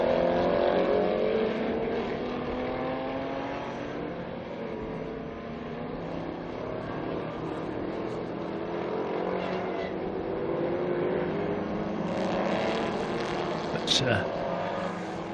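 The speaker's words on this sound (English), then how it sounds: "cars are now back running and racing" Historic race cars back at speed at Estoril after a full course yellow, engines droning steadily throughout under continuous commentary.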